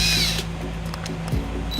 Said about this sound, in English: going to go ahead and connect our ground here using the provided tech screw